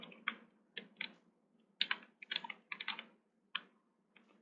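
Keys on a compact 60% computer keyboard typed in short irregular bursts of crisp clicks with brief pauses between them, close and fairly quiet, with no talking.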